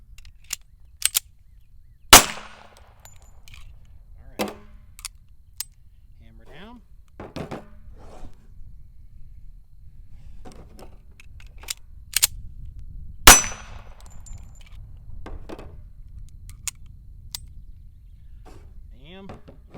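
Gunshots from a 1911 pistol during a table-top load drill at a range, a few sharp loud cracks spread irregularly over the span with quiet handling clatter and low rumble between.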